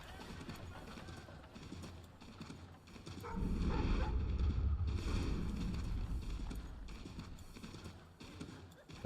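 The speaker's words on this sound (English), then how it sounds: "Oh, that's a pretty horse." Rhythmic clip-clop of horse hooves trotting in Assassin's Creed III, growing louder partway through, over a steady wash of ambient game noise and wind.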